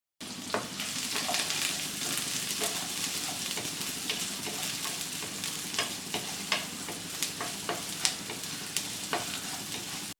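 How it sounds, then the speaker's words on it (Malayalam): Small onions sauté in a pan for a Kerala chukkappam snack, giving a steady close sizzle with scattered sharp clicks of a spoon stirring against the pan. No voices are heard. "ഈ ഉള്ളി നന്നായിട്ട് വഴറ്റി ഒരു ചെറിയ ബ്രൗൺ കളർ ആവുന്നവരെ വഴറ്റിയെടുക്കണം"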